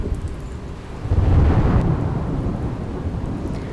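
Heavy monsoon rain pours steadily in Surat while a deep roll of thunder swells loud and then fades back into the constant hiss of rainfall.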